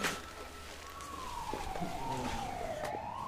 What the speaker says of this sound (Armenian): Եկավ շտապօգնությունը։